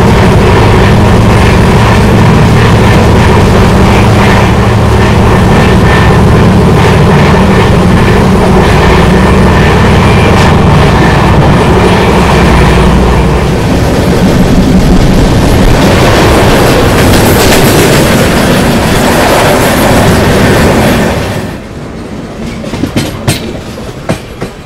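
Sampark Kranti express train cruising at about 130 km/h, a loud continuous rumble with rhythmic clickety-clack of wheels over rail joints, heard close from on board, easing near the end.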